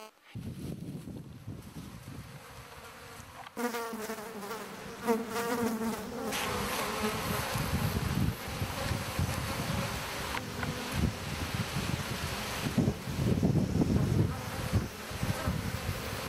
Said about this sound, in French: C'est rempli de mouches, donc c'est vieux.